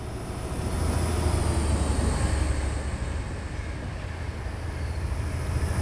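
A classic diesel locomotive in Train Simulator 2016 runs with a deep, steady engine drone and broad rolling noise, swelling slightly in the first second and then holding level, with no talking.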